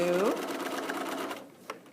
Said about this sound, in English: we're going to sew across this one a minimum of 3 times